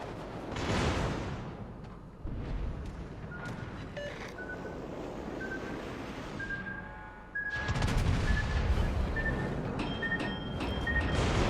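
Naval gunfire from a warship combat video game, featuring a Bourgogne battleship, with dense booming salvos and rumbling explosions rolling continuously, growing louder and fuller in the second half, along with steady high electronic interface tones.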